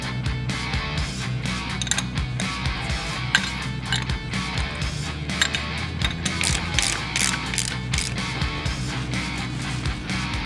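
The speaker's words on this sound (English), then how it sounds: "The next step is to remove the 6 spindle nuts." Ratchet and metal tool clicks from removing the six spindle nuts on a car wheel hub during a steering knuckle replacement, a steady run of busy mechanical ratcheting and clinking close by, with no talk.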